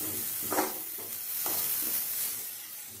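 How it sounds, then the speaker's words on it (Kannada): Carrots and other vegetables frying in a pan for ginger garlic soup, a steady close sizzle with a few stirring scrapes and no voices. "ಇದು ಒಂದು 2 ಮಿನಿಟ್ಸ್ ಈ ರೀತಿ ಫ್ರೈ ಮಾಡ್ಕೋಬೇಕು"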